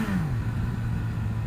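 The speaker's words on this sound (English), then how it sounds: "it does have a little burple to it on down revs" A motorcycle with a Yoshimura exhaust gives a low, steady burble as the revs drop, a falling tone sliding into a quiet, rumbling idle for a moment.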